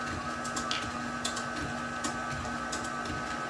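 An electric mixer runs at low speed through butter sugar cookie dough with almond extract, giving a steady, moderately quiet motor hum with a faint, even whir and no talk.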